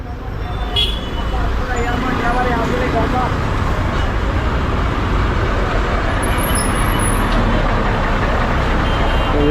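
Heavy vehicles idle and pass at a crowded roadside bus stop where long-distance buses depart, a dense continuous roar of engines and traffic with a brief beep near the start and people talking in the background.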